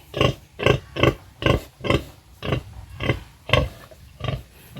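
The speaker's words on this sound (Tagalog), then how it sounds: "Si Mama Pig." A mother sow on a Philippine pig farm grunts in a steady series of about ten close, loud, rhythmic low grunts, one after another with no pauses.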